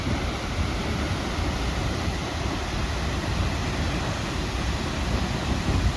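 Waterfall at Reynisfjara, Iceland, on a snowy, still day, a steady broadband rush of falling water that stays even and fairly loud throughout, with no voices.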